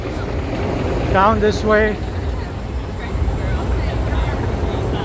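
Helicopters flying above downtown Chicago, a steady distant rotor drone mixed into busy city street noise, with someone speaking briefly over it.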